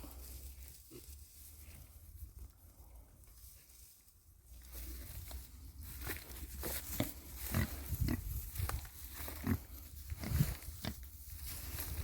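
Mangalica pigs grunting and snuffling close by behind wire mesh, with scattered shuffling and rustling movements, growing busier in the second half.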